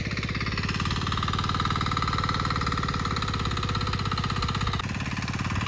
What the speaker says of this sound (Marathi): तिकडं पण इंजिन काम चालू आहे.